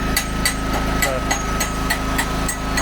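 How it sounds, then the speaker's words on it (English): A welder's engine runs steadily at close range, a constant droning hum with a regular rapid pulse and faint periodic ticks, a voice talking over it at times. "That's his welder"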